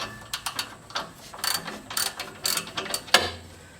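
A 12 mm socket ratchet loosening oxygen sensor bolts on a Toyota 4AGE engine, a run of sharp close clicking strokes in quick irregular bursts, ending in a heavier clunk.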